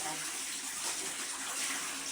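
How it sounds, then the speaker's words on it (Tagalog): Continuous sloshing and splashing water close by, steady throughout, like clothes being rinsed in a basin. "Tapos, nagbabanlaw na ako."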